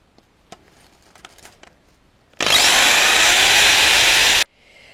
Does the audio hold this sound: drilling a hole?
yes